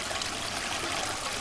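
A babbling stream runs steadily, a continuous bright wash of rushing, trickling water close by with no voices over it.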